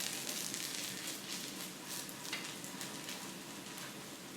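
A gluten-free vegan almond and strawberry pancake sizzles in a hot pan, giving a close, steady crackling hiss with small pops and no talking.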